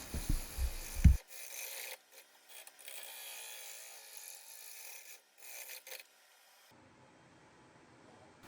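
A large walnut bowl blank is rough-turned on a lathe at about 330 RPM, with a rasping, scraping cut that starts and stops in short bursts before fading to a low hum.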